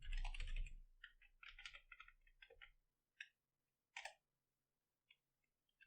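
Close clicking of a computer keyboard as HTML and CSS code is typed: a dense run of keystrokes in quick bursts, then slowing to a few isolated taps separated by silence.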